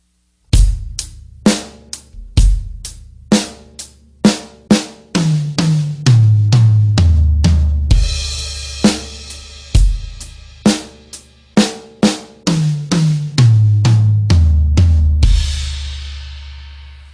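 A drum kit plays one bar of a simple eighth-note beat and then a fill across the toms and cymbals, with loud, steady hits up close. Crash cymbals wash over parts of the pattern, and there are no voices.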